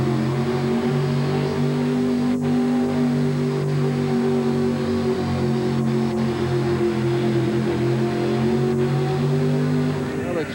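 A monster truck's big engine roars steadily at a 1988 USHRA truck pull in Denver, Colorado, a loud sustained drone with strong low harmonics heard from the stands, with an announcer's voice over it.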